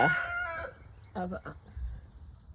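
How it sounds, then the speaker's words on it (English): A backyard chicken coop with hens, one of them a layer of green eggs, gives out a few short clucking calls that ring clearly at the start and then come back as brief bursts over a low outdoor rumble. "we have a chicken laying green egg in here"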